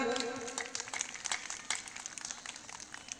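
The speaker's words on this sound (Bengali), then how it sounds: "একবার জোরে হাততালি হয়ে যাক।" Applause from a crowd at a village panchayat event where a singer is being honoured, scattered claps in a fairly dense burst that fades slightly over a few seconds, heard from moderate distance.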